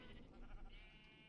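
Sheep bleating in the video game Minecraft on a hardcore-mode sheep farm, a steady, fairly faint bleat lasting just over a second with no talking over it.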